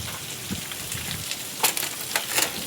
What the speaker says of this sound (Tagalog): Lakas ng ulan, oh. Grabe, lakas ng ulan.